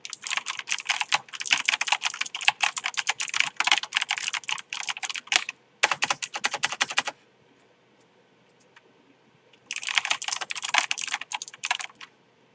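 Crisp, clacky typing on a Tree Frog mechanical keyboard with white and black keycaps comes in dense rapid bursts close up, with a quiet pause before the typing resumes.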